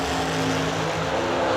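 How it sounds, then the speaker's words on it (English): A loud race car revs and accelerates at a drag racing event, a brief, steady, buzzing engine roar heard from a moderate distance. "Comes a loud car, Seth."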